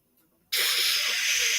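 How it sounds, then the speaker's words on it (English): A 1-inch ribeye steak hits a hot pan with a sudden loud, close hiss of searing that bursts in after a brief quiet moment and holds steady and bright to the end. "Give it a good sear."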